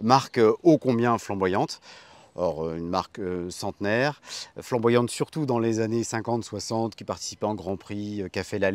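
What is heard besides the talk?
No everyday noise stands out behind the speech.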